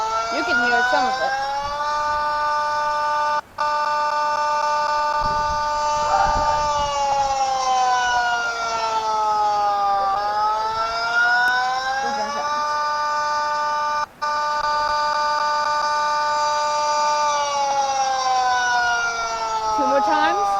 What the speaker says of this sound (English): Testing the tornado siren.